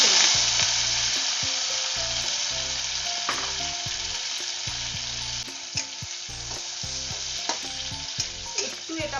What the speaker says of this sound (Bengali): এবার আমি মাছের তেলটা প্রথমে তেলে ছেড়ে দিচ্ছি